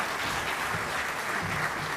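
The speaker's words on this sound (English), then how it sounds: "A round of applause for Ms." Audience applause for an honoree at a broadcasting union's hall of fame induction ceremony, a steady, dense wash of clapping with no talk over it.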